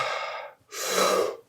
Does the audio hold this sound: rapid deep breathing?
yes